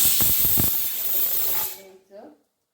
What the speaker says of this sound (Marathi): इकडं कुकर पण लावून झालंय भाताचं